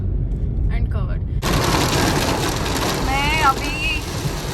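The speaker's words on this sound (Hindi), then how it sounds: "मतलब इतनी तेज़ बारिश हो रही है" Heavy rain pouring down on a drive near Om Beach in Gokarna, India, a sudden loud dense hiss that starts abruptly and continues steadily, with a voice speaking briefly over it.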